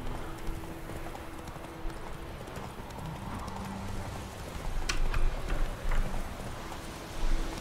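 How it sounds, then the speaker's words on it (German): Horse hooves clip-clop in The Witcher 3 as a riderless horse moves, soft rhythmic hoof taps over a low game ambience bed, fairly faint with a few brighter knocks later on. "Das herrenlose Pferd."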